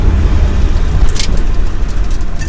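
A Ferrari 360 Challenge Stradale is heard from the cabin while being driven, its engine giving a loud, constant rumble with a slight rise in revs and some road noise underneath.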